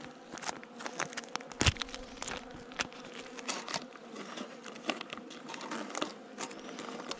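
Honeybees buzz steadily around a hive that swarmed with a late-mated virgin queen, a close, continuous drone broken by quick taps and rustles, with no voices.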